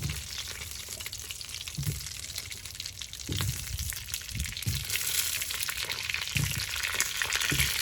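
Meat sizzles and fries in a kazan as whole potatoes are added, a loud continuous hiss broken by several thumps and stirring knocks.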